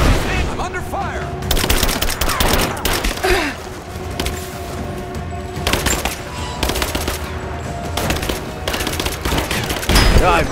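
Rapid bursts of automatic gunfire and firefight noise from the video game Rise of the Tomb Raider, loud and continuous with dense volleys, thumps and a faint voice now and then.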